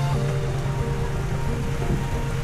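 Steady typhoon rain in the Cordillera mountains near Sagada, with a broad hiss and low rumble, constant and fairly loud throughout, no voices.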